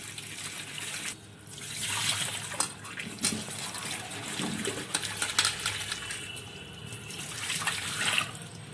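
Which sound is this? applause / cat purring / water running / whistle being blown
water running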